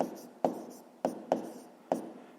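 A pen writes out a multiplication on paper in a quiet room: four sharp taps as the tip lands, each trailed by a short scratchy stroke, close and alone.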